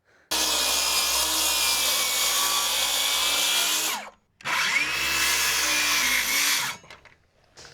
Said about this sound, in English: I could have just used the reciprocating saw for the whole thing, but this thing kind of tears splinters into the cedar